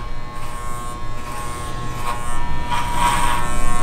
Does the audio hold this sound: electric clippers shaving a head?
yes